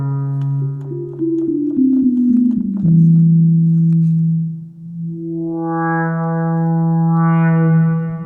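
A loud Moog Sub 37 synthesizer plays stepping, sustained tones through delay and reverb that trail off in repeating echoes and a washy reverb tail, with a rising buzzy swell later.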